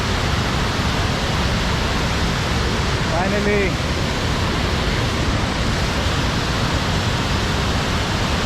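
Vajrapoha waterfall rushing in a steady, loud broadband roar from start to finish, with a brief voice heard over it partway through.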